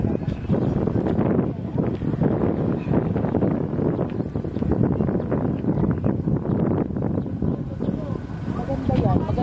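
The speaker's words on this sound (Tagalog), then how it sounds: "Kasi po sobrang hangin talaga." Strong wind buffets the microphone at an outdoor mountain overlook during a meal, a steady, loud, rumbling roar that continues throughout, with muffled voices underneath.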